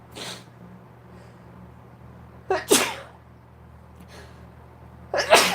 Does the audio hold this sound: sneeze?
yes